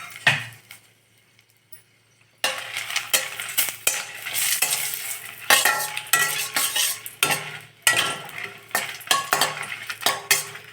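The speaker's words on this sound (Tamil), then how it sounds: "எண்ணெயில் இந்த மிளகாவை போட்டு நல்லா ஒரு நிமிஷம் வறுத்து எடுத்துடலாம்" Dried red chillies fry in hot oil for idli podi spice powder. After a brief quiet start, loud crackling sizzle begins, broken up by repeated scraping and clinking of a spoon stirring the pan.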